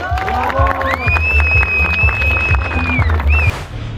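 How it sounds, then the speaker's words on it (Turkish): Cheering and applause from a crowd at an outdoor paragliding camp award ceremony, loud and continuous over several seconds, with shouts and whistles rising above the clapping. "Kendinize kocaman bir alkış."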